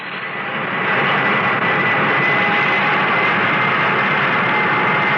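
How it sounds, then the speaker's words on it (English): Aircraft engines start up as a radio drama sound effect, a loud, broad roar that swells over the first second and then holds as a steady, even drone, with no voices. "Request permission to start engines."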